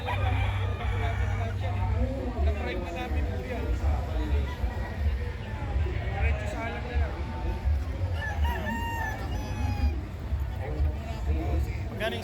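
Gamecock roosters and stags at a fiesta poultry show crow repeatedly amid clucking, some near and some farther off, over a steady crowd murmur with people talking.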